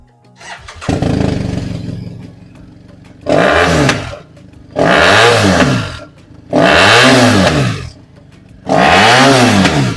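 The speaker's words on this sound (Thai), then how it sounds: "เดี๋ยวมาฟังเสียงเครื่องยนต์กัน" A 2016 BMW F800GS Trophy motorcycle engine idles low, then is revved hard four times in short bursts, each loud roar rising and falling with brief idle gaps between.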